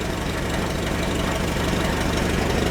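An old Farmall tractor engine, long sitting, runs half choked in cold weather with a steady low chugging idle and a slightly uneven knocking pulse, close and continuous.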